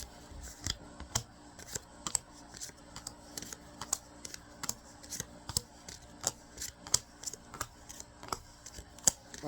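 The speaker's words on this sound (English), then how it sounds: "it's going to be a peach putting these cards away" Tarot cards snapped and shuffled repeatedly while being gathered and put away, a steady run of sharp close clicks and flicks with no talking.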